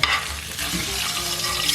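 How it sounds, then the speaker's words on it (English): Steady, crackling sizzle of onions frying in a hot pan, continuous and close, with faint stirring noises. "that sounds like it's sizzling"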